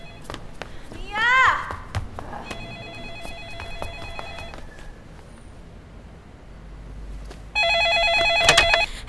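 A telephone rings indoors in short bursts of bell tones, with a shout and movement between rings and a louder ring near the end.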